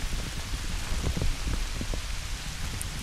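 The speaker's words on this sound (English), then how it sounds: "Snow. It's not exactly hail." Icy snow or sleet that is not quite hail falls steadily in cold weather, a dense, even hiss of small pellets with a few sharper ticks, close by and with no talk.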